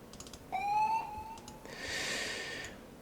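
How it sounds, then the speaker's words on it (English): A police-siren-like rising wail sweeps up over a house music track at the first drop, followed by a bright hissing synth swell. "I'll put a police siren on the first drop"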